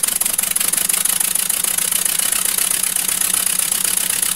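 Model two-cylinder steam engine driving an electric generator and running at 20 pounds of pressure, giving a fast, even, rapid chuffing beat that stays steady throughout, close up and with no talk.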